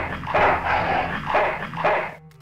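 A dog in the Full Throttle Remastered video game barks and whimpers in several loud rough bursts with short gaps between them, close and alone, ending abruptly.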